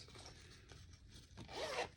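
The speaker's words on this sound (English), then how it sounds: "Nice zipper." A pencil pouch's zipper is pulled open in one quick, faint rasping stroke near the end, after soft handling rustle.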